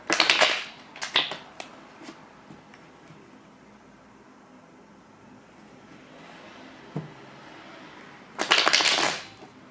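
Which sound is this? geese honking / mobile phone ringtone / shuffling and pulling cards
shuffling and pulling cards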